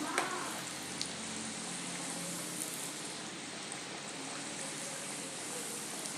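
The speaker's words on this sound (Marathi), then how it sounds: "याला आता आपण असं सोनेरी रंगावरती व्यवस्थित तळून घेऊया" A poha and potato breakfast snack frying in hot oil: a dense, steady sizzle and crackle that continues evenly throughout, close up, with no voices.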